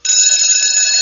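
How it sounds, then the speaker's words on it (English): A mechanical alarm clock rings in a bright, steady, continuous tone. It is loud and close, sounding alone for about a second with no talking. "Why, that's no good alarm clock."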